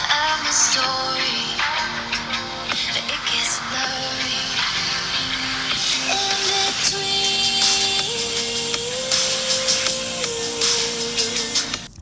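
Music sound samples play through the speakers of Vivo X300 FE and X200 FE smartphones, a bright, full mix with a sustained melodic line, steady and fairly loud with no talking over it.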